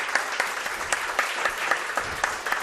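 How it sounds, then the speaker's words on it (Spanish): An audience gives a short burst of applause at a Spanish-language television show recorded on La Gomera in the Canary Islands, steady clapping with a few louder claps standing out, close and moderately loud. "Pido un aplauso para él."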